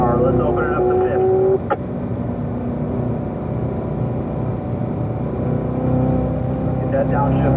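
A Corvette on a race track pulls hard in fifth gear, its engine drone loud and sustained after a brief pitch sweep, with a voice speaking over it at the start.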